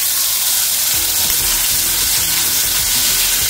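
Paneer frankie masala sautés in oil in a kadhai over a high flame, a loud, steady sizzle with continuous scraping and stirring strokes close up, no voices.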